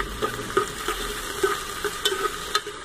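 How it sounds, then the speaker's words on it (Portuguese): Onion and garlic sautéing in a pan for pressure-cooked beef chuck, a steady close sizzle with a run of soft spoon scrapes and stirring taps at irregular intervals. "o que eu vou refogar aqui, gente, só é a cebola e o alho"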